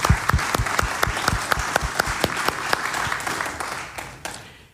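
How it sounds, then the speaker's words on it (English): A crowd at a forum applauds the volunteers and staff: dense clapping with a few distinct close hand claps standing out, steady at first and then gradually fading. "Let's give them a big round of applause too."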